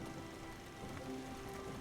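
Steady rain hisses in the video game Spiritfarer, a dense, even wash of falling water with faint tonal hum underneath and no voices.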